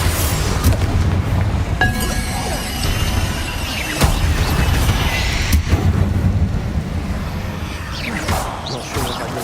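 Heavy explosion blasts from the Bombarda spell in the Hogwarts Legacy video game boom several times amid continuous rumbling combat noise, with sharp cracks around a few moments and a voice calling out now and then.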